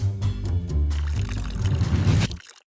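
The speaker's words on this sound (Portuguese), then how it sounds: "eu vou encher com esse filtro de água de osmose reversa" Water from a reverse osmosis filter pours steadily into a small aquarium, a close, continuous splash and gurgle with a low hum beneath it, ending abruptly after about two seconds.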